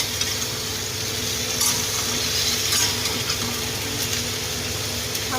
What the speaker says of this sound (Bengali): আদাটা যেহেতু কাঁচা, আদাটা একটু সময় ধরে নাড়াচাড়া করে পরে বাকি মশলাগুলো দেবো